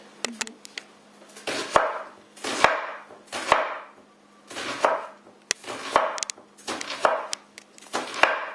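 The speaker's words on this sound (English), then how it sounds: "And just start cutting slices." A knife slices a vegetable into rounds on a cutting board in a home kitchen, giving a series of crisp, close chops in an irregular rhythm with short pauses between cuts.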